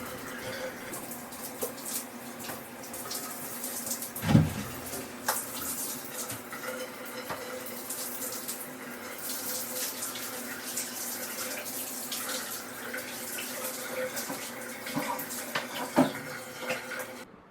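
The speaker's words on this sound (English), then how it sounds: "I'm using my rinseroo to rinse the entire shower down with just water" Water from a shower rinsing attachment sprays continuously against the shower walls with a broad hiss, punctuated by occasional knocks and splashes, close and fairly loud.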